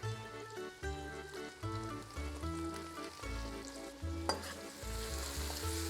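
Garlic and capsicum frying in a pan with seafood, a soft bubbling sizzle sitting under louder background music with a steady beat, faint and close throughout.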